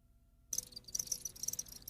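Crickets chirp in a dense, high, rapidly pulsing trill that begins abruptly after brief near-silence and continues steadily, close and fairly loud.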